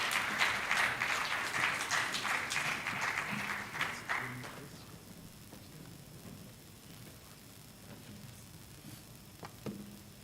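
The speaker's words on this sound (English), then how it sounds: "Please, a round of applause for him." A round of applause from an audience at a democracy summit, fairly loud for the first few seconds and then dying away into quiet room tone with a few scattered sounds.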